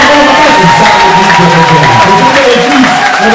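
A church congregation at a service raises a loud, continuous wash of cheering and acclamation for the Lord, many voices blending into a dense, sustained roar with sung or shouted tones running through it.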